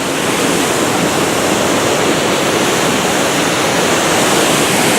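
Water rushes through a flume in a loud, continuous, close-up roar that stays steady with no voices.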